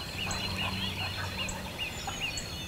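A wild turkey hen yelps in a series of short, high calls, faint and distant over a steady outdoor background hiss.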